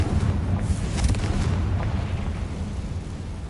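A Confringo explosion spell cast in the Hogwarts Legacy video game: a loud, sustained rumbling blast with a burst of crackle near the start, then a low roar that fades slowly.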